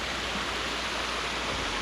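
A roadside creek along the Great Divide Trail flows steadily, a dense, constant rush of water close by with no breaks and no voices.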